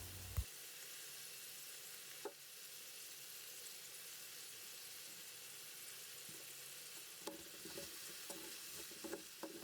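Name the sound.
stirring leeks frying in a pan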